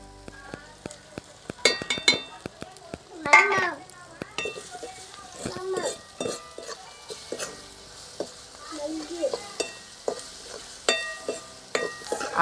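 Spices sautéed in a pan for cucumber bhaji, with intermittent sizzling, clinks and stirring scrapes in uneven bursts, close and moderately loud, with some voice sounds mixed in.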